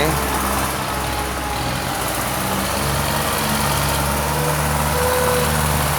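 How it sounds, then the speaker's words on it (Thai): Two tractors pushing soil drone steadily throughout, a loud continuous diesel rumble with vibrating machinery, with no clear talk. "วันแรกที่รถไถ ดันคู่เลยครับ มี 2 คันครับ"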